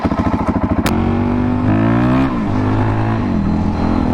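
A Suzuki DRZ400 supermoto motorcycle idles with a rapid single-cylinder thump, then revs up and pulls away, its loud engine note rising and settling through the gears close by.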